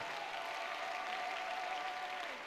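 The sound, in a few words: congregation applause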